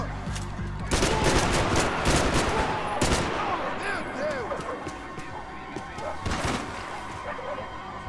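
Bursts of gunfire in the Max Payne 3 video game crackle in rapid volleys, loud and sharp with echoing impacts, alongside game action noise and occasional speech.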